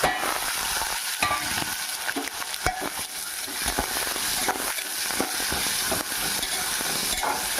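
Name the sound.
tomato pieces frying and being stirred for mushroom gravy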